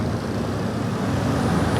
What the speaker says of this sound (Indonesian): Ini suasana masih pagi hari dan jalan itu didominasi dengan kendaraan roda 2.